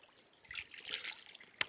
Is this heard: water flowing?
yes